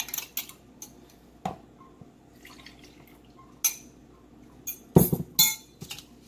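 Cornbread batter is stirred in a bowl, with scattered clinks of a utensil against the side and soft wet slaps, a louder cluster of knocks near the end, close-up and without speech.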